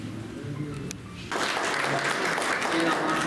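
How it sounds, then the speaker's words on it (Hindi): Audience at a school management committee honour ceremony bursting into loud, sustained applause that swells suddenly after a quieter stretch of murmuring and stays dense to the end. "जोरदार ताली किया जा रहा है।"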